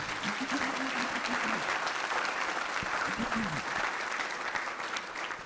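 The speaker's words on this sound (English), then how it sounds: "So a round of applause for our selection committee." An audience at an awards event honoring people over eighty applauds the selection committee, a full, steady roar of clapping from a large room with a few faint voices mixed in.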